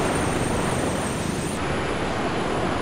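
The engine of a VTOL aircraft near an aircraft carrier in the ARMA 3 war game gives off a loud, steady roar that holds without a break, with a high whine riding on top.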